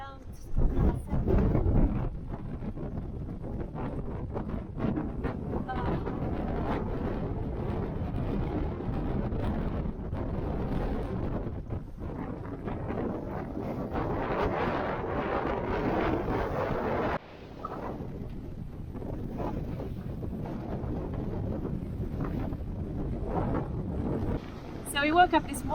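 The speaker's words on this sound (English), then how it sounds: "I guess we are in a big thunderstorm" Strong thunderstorm winds roar around an anchored sailboat dragging in gusts over 40 knots, heavy buffeting rushes and surges close to the microphone, easing briefly before rising again.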